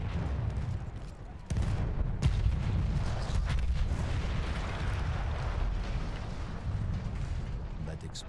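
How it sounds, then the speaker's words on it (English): Heavy battle din from the Battlefield 1 video game: a dense, continuous roar of explosions and gunfire, with sharp blasts near 1.5 and 2.2 seconds standing out above the rumbling wartime chaos. "Explosion was one of the sweetest sights of the war for me."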